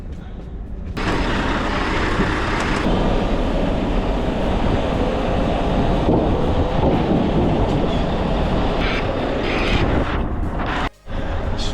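A semi truck creeping a short way forward, a loud, steady, close diesel rumble with rattling that holds for about ten seconds, then briefly cuts out near the end.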